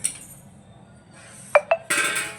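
An old, well-scrubbed kadhai simmering chicken rassa has its metal lid lifted: quiet bubbling, then two sharp close metallic clinks and a brighter scraping clatter of lid against pan, with no talking.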